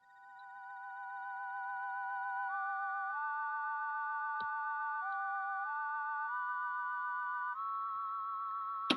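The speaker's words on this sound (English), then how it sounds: "the most interesting part is the whistle sound that I used later in the song" Synthesized whistle sound from the Mixcraft library plays a simple slow melody with fast vibrato, clear and steady over near silence, with a couple of faint clicks.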